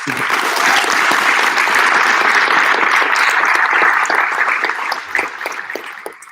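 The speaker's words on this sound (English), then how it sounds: "please, first give them a round of applause" Sustained, loud applause from a large audience at a senior awards ceremony, dense and steady for several seconds before tapering off toward the end.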